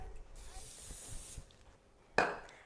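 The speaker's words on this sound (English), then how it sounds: "where did I put the cooking spray? Here we go." A short hissing burst of cooking spray from an aerosol can, followed by a few clunks and a sharp knock.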